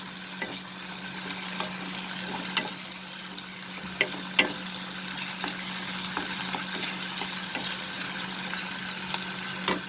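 Translucent onion frying with ginger garlic paste while being mixed, a constant dense sizzle with scattered sharp scrapes and taps from the stirring, close and unbroken by talk.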